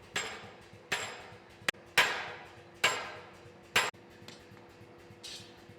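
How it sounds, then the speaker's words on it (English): A hammer strikes steel in a slow, uneven series of sharp ringing blows while forging sword overlays, each clang decaying briefly before the next, with a steady hum behind. "While Ilya continues to forge the oversized overlays that we won't end up using"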